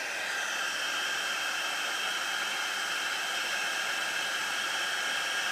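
A heat tool runs continuously close by with a steady, even blowing hiss, warming embossing powder on a stamped Christmas tag until it melts, with no pauses or voices.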